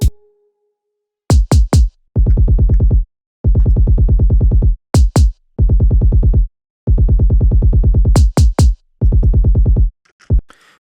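Layered main kick and sixteenth-note kick drums in an Ableton session, playing as loud repeating bursts of rapid low thumps separated by short gaps, with a few sharp isolated hits between them and no talk.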